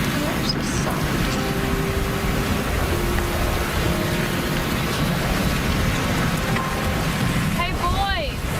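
Steady rain pours down outdoors in a wild survival camp, a dense continuous hiss on surfaces with no pauses, while faint whistling tones and brief vocal sounds rise over it near the end.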